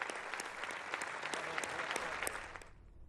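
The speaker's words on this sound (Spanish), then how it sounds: "unos aplausos para no olvidar a nadie" A crowd applauds at a memorial tribute with flowers and a minute of silence, a steady dense patter of clapping that fades out at the end.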